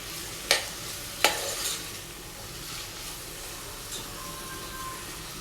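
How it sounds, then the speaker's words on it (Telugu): Mixed vegetables with beans frying on a high flame for a vegetable soup hiss steadily. Two sharp scrapes of a spatula against the pan break in early, and softer stirring sounds come later. "వెజిటేబుల్స్ అన్నీ కూడా హై ఫ్లేమ్లోనే నేను ఫ్రై చేస్తానండి"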